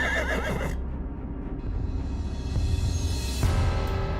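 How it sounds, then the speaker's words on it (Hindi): A horse in a stable neighs loudly at close range, a quavering whinny at the start that cuts off, followed by a sustained low rumble and a couple of faint thuds that could be hooves. "इस सुंदर घोड़े को अस्तबल में रखकर विशेष सेवा प्रदान करो"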